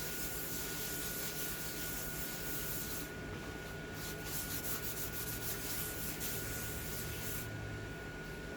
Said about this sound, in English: now I'm coming back and just rubbing it in a little bit, very light pressure, because I really don't want to smear the chalk